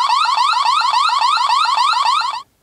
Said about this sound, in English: there's a siren in here, so you can use this to scare people off